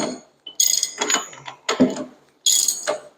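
A nut threaded onto a cam gear during a 1920 Nash engine rebuild gives a few sharp metallic clicks and scraping turns in separate bursts close by, with quiet gaps in between and no talking.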